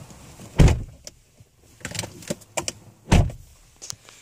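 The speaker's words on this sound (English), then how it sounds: "Now, let's go ahead and close the door." A 2012 Hyundai Equus Ultimate car door shuts with a solid thunk, followed by a second heavy closing thud a few seconds later, with small clicks and rustles in between, all close by.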